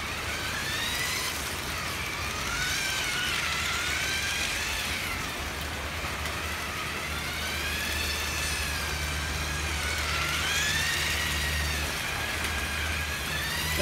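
A motorized Lego City model runs along its track at top speed. Its small motor gives a faint, continuous electric whine that rises and falls in pitch as it revs, with no talking over it.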